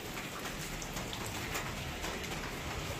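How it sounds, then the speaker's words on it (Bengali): Steady rain falls outside a home in rural Bengal, a dense, even hiss of drops that stays constant throughout with no voices over it. "এই যে বৃষ্টি পড়ছে"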